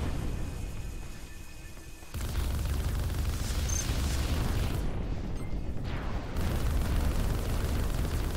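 Missile blasts in the space fighter game Arc Savior come as dense, loud, rumbling bursts that run back to back with no talk.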